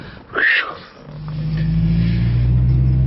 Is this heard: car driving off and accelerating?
yes